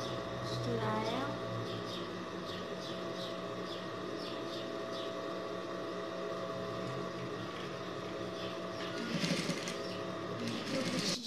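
A sewing machine runs steadily as it stitches the edge of a child's dress, giving a continuous mechanical whir with a faint rhythmic clatter.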